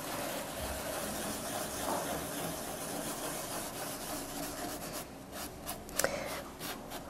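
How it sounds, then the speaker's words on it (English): Soft, rhythmic scratching of sandpaper rubbed lightly by hand over a hard painted surface, close and steady, with a couple of sharper taps near the end. "So I'm sanding lightly."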